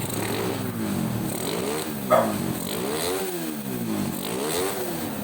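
A motorcycle engine with a freshly serviced carburetor revs repeatedly up and down in rising and falling sweeps, close and moderately loud, with a brief clack partway through and no talking.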